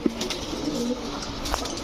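A female pigeon at a pigeon farm gives a soft, low coo near the start and another brief call later, quiet and close against a steady background hum.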